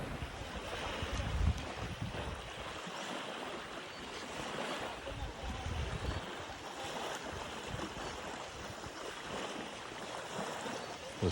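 Ocean waves washing onto a beach in the Philippines where fishing boats sit, a continuous broad roar of surf mixed with wind buffeting the microphone, steady and fairly loud throughout with no talking.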